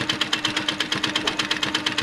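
A sewing machine quilts a ribbon candy pattern with a close, loud, evenly pulsing chug of about eight stitches per second, held steady from start to finish.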